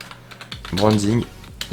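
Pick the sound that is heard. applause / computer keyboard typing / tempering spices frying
computer keyboard typing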